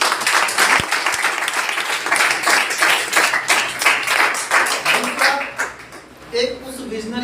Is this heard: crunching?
no